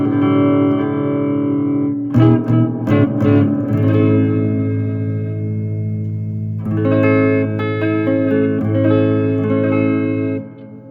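A guitar played through a newly built amplifier with reverb rings out in sustained, distorted chords, with a brief flurry of picked notes in the middle and a long reverberant tail, loud and alone.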